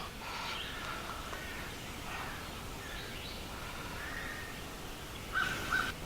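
Several crows caw in the distance at a campground in Prince Gallitzin State Park in the morning, scattered calls repeating every second or so over a soft outdoor hiss, with a couple of louder caws near the end.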